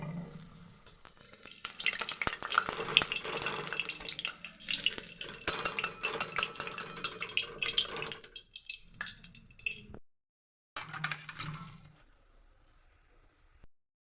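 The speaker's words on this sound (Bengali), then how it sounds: "দুই পিঠ ভাজা হয়ে গেলে পেঁয়াজিগুলোকে প্লেটে তুলে নেব।" Onion fritters (piyaji) frying in hot oil give a steady crackling sizzle with some clinks of a pan, cutting out briefly near the end before a short quieter stretch of frying.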